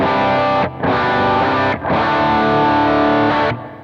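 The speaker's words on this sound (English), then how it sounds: "playing with that dwell setting, it can give you a lot of variety using that spring reverb" Electric guitar through a Jet Pedals Revelation spring reverb with the dwell turned up, three sustained chords each ringing out with a splashy reverb tail, played alone.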